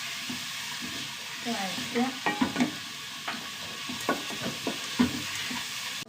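Finely chopped garlic and green chillies sizzling in a pan, stirred with irregular scraping and clattering strokes over a low steady frying hiss, close by and fairly quiet.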